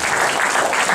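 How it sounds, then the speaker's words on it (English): Audience at a religious gathering applauding, a brief, loud, continuous burst of clapping from a crowd. "So give yourselves another round of applause."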